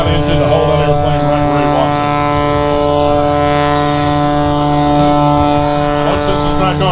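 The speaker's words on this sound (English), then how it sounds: "depending on the thrust of that Lycon engine to hold that airplane" Aerobatic airplane with a Lycoming engine hanging motionless in a hover at an air show, its engine droning in a loud, steady sustained tone with strong harmonics throughout, along with a background hum.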